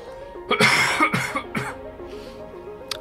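A person coughs several times in quick succession, a close, loud cluster of harsh bursts followed by a quieter throat clearing, with a faint game soundtrack tone in the background.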